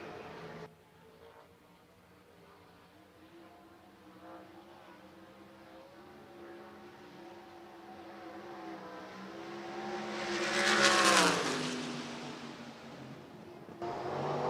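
A USAC race car at Illinois revs up onto the front straightaway, its engine drone building steadily and peaking loud as it passes close by, then fading slightly before rising again.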